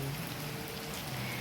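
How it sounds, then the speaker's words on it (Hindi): Steady rain falls in an even, dense patter on surfaces, close and continuous, with nothing else heard. "आप देख सकते हैं कितना अच्छा बारिश हो रहा है"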